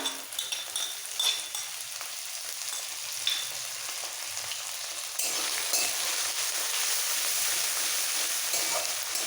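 Grated ginger, finely chopped green chillies and tempering spices sizzle and fry in a pan, with occasional stirring and light clinks of a utensil; the steady hiss grows louder partway through, and no one speaks.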